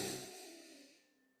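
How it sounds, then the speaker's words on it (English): A single slow breath drawn in through the nose during a somatic breathwork exercise, soft and close, tapering toward silence with a small click at the very end. "it's going to be breathing through our nose"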